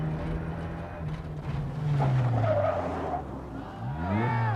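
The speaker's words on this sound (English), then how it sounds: "that's a very neat way round a hairpin in a BMW" Engine of a BMW Group N rally car on the 1990 Circuit of Ireland Rally rising and falling through a hairpin right, with loud revving and gear changes, a commentator talking over it.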